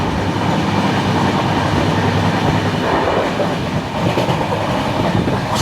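The 12345 Howrah–Guwahati Saraighat Express runs at about 110 km/h near New Jalpaiguri, producing a loud, steady rumble of wheels on rails that stays close and unbroken throughout, with no voices.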